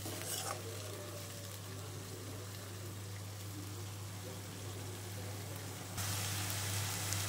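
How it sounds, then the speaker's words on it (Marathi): Coconut masala frying in oil for chana masala, a steady soft sizzle with occasional stirring in the pan, close and continuous, louder toward the end. "आपला खोबऱ्याचा मसाला छान करपला गेला आहे व तेलही सुटलं आहे।"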